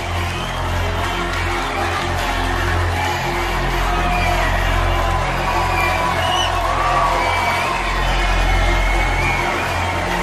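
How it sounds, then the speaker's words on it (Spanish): A pageant audience cheers and whoops for a finalist, a loud, steady crowd roar with shouts rising throughout and a low droning music bed beneath. "Fuerte aplauso para nuestra finalista."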